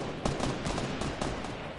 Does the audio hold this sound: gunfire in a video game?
yes